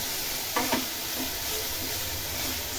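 Finely chopped green chillies, a hot lavangi variety, sauté in a pan with nearly cooked vegetables for a veg manchow soup. A steady, even sizzle carries a couple of quick spatula scrapes near the start. No one speaks.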